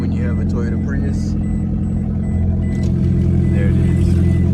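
A Toyota Prius left without its catalytic converter runs with a loud, rough, droning exhaust rumble, steady and close, with small clicks and knocks over it.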